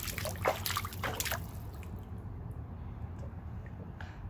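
Water trickles and drips while a hot tub is being filled, a steady close liquid patter with a few louder splashes and knocks at the start before settling into an even, low flow.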